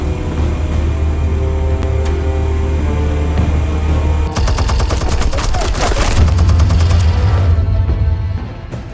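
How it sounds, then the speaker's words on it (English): Gunfire erupts in Batman: The Telltale Series over a steady low hum, becoming rapid bursts of loud shots that rattle in the middle and fade toward the end. "Explosives armed. Fire when ready."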